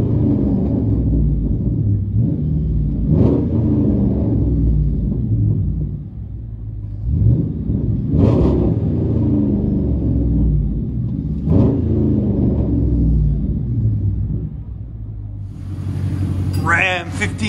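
Deep, rumbling exhaust of a Ram 1500 pickup with a 5.7L Hemi V8, heard from inside the cab, idling low with a few brief revs swelling and fading.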